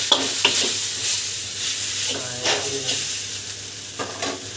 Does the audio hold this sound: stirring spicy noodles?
yes